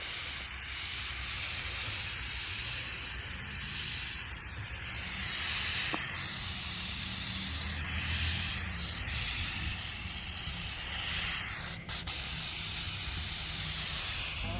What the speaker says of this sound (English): I just gave them 2 coats of gold spray paint